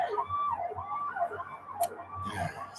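An ambulance siren wails outside in a repeating up-and-down pattern, moderately loud and fairly near, with traffic rumble underneath and a brief sharp noise partway through.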